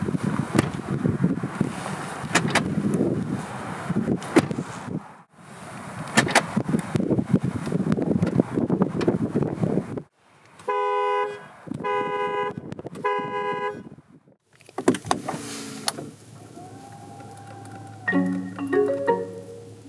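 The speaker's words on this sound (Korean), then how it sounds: "잠시 에비에이터 플러그인 하이브리드가 들려주는 감성 측면의 소리를 들어볼까요" A 2021 Lincoln Aviator plug-in hybrid SUV: broadband cabin noise with wind rush fills the first half, then a sequence of chime-like tonal alerts, including repeated short pulsed tones and a closing melodic chime, plays clearly with no talk.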